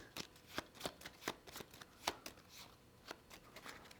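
A deck of cards from the nautical board game At the Helm being shuffled, a run of sharp riffling bursts, moderately close and fairly quiet, with no talk over it.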